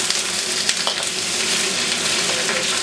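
Bok choy stems and light-browned garlic stir-frying in a pan for a chicken stir fry, giving a steady close sizzle with faint stirring scrapes throughout.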